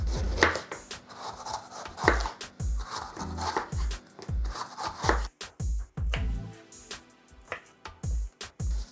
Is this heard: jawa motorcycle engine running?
no